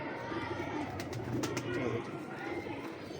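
Pigeons, a male and female pair kept as fancy birds, give soft repeated coos at a moderate distance, fairly quiet against a murmuring background.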